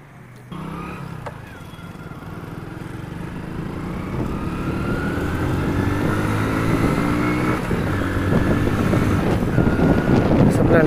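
A Hero Splendor motorcycle engine starts with an abrupt catch, then idles and pulls away, its rumble rising steadily as the ride gets under way, mixed with wind buffeting on the microphone.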